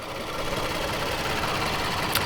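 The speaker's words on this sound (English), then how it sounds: "And here we have that new VR30 twin turbo engine." An Infiniti Q50's 3.0-litre VR30 twin-turbo direct-injection engine idles close by with a smooth, continuous mechanical hum and a faint whine above it.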